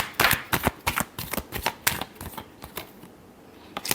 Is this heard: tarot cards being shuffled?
yes